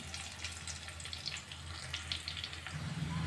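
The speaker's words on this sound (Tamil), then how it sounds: "கொஞ்சமாக திராட்சை, இதுவும் வறுத்து எடுத்துக்கலாம்." A few raisins fry in ghee left from roasting cashews, producing a continuous, moderately soft bubbling sizzle throughout.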